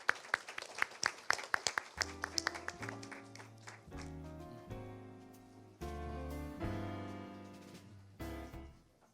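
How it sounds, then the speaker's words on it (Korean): Scattered audience clapping greets a speaker walking onto the stage at a startup event. The applause is brief and fairly close, then gives way to sustained musical tones. "박수로 환영해 주십시오"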